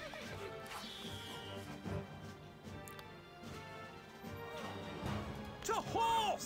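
A horse whinnies near the end with a bright, wavering neigh in Stronghold HD, following hoofbeats and clattering game effects, with some talk mixed in.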